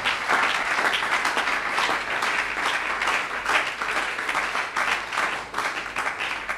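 A church congregation applauds together at a worship service, with dense, sustained clapping that fills the room evenly and continues without a break.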